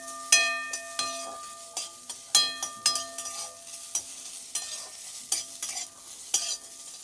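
A spoon scrapes and stirs rohu fish curry cooked without oil in a pan, giving a series of irregular metallic strokes with a ringing pan tone over a faint sizzle.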